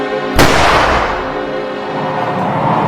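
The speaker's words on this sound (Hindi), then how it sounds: "शिकारी ने निशाना साधा और गोली चला दी।" A single loud gunshot from a hunter's rifle in an animated film cracks sharply and then decays into a long, rumbling echo.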